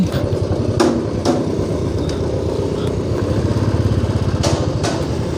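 A motorcycle engine putters steadily at close range while riding on a road, its low rumble throbbing under occasional thumps and clicks.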